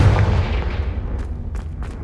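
A Confringo fire spell explodes in the video game Hogwarts Legacy with a single sharp boom at the start that rumbles and fades away. A few faint crackles follow.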